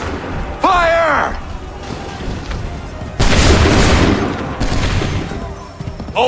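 A musket volley crashes out in the Assassin's Creed 3 video game as a loud, booming fusillade of overlapping shots. Shouted commands come just before it, and a second ragged burst of fire follows.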